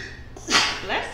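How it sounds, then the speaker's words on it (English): A woman sneezes once, sharp and close, breaking out of quiet room tone with a brief breathy follow-through. "Oh my God, I rarely sneeze."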